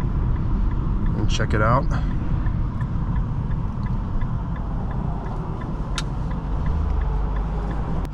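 A 2008 Infiniti M45 rolls through a U-turn with a steady low engine and road rumble from inside the cabin, a brief chirp near the start, while a person talks over it.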